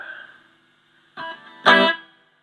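An electric guitar plays through a Peavey Classic 30 tube amp with its reverb on after a repair: a decaying chord, then a pause, a short strum and a louder strummed chord that rings into a reverb tail.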